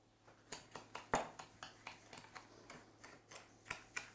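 Quick, regular clicking taps of a whisk beating eggs with sugar in a bowl, fairly faint and close, repeating in a steady rhythm.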